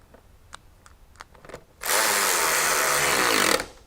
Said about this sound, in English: I would love to have an electric ratchet that works every time I pull the trigger